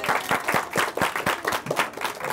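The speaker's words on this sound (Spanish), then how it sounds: "Sí, claro, un aplauso." A studio audience at a live science TV show in Tecnópolis claps in brisk, steady beats, fairly close and full, with no talking over the brief burst.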